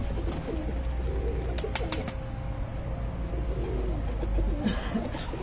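Pagal Topi pigeons coo in soft, repeated low calls, with scattered flutters and clicks, in a continuous, fairly close loft ambience with no talking.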